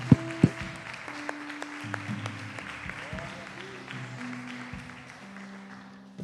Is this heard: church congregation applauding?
yes